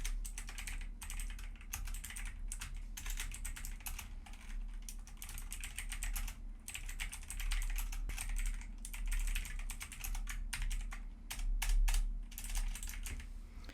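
Steady, rapid typing on a computer keyboard positioned behind a Fifine AmpliGame A6V microphone, with brief pauses between bursts of clicking keys and no talking.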